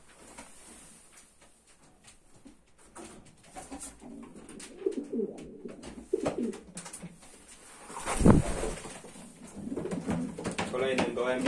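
Racing pigeons cooing in low, rolling murmurs nearby in a loft, mixed with clicks, rustling, and a person talking over them.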